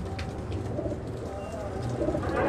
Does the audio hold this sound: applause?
no